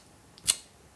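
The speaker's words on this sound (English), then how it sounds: "this is a leaf shutter, it doesn't give you a nice sound when you take a photo" A Fuji X100VI leaf shutter fires once with a single very quiet, short click, almost lost in a faint background hiss.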